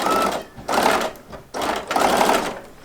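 A sewing machine runs in two steady bursts with a brief pause between them, stitching quilt fabric scraps along a quarter-inch seam. The whirring motor sounds loud and close, and no one speaks.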